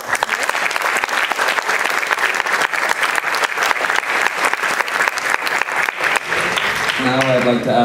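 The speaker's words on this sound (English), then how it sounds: "We have one more round of applause for the team moms." Audience applauding the team moms at a fall school sports awards ceremony, steady sustained clapping from a large crowd filling the room, with a brief voice emerging near the end.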